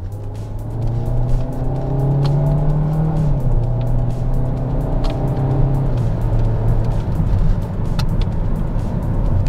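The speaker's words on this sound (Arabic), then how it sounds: "رح شغل وضعيه السبورت ونجرب مع بعض صوت الشيفتنج بات اللي ذكرته بالبدايه" A Hyundai i40 driving in sport mode, its engine note climbing steadily and then dropping sharply at each gear change, around three and six seconds. The drone is loud, close and continuous, with no talking.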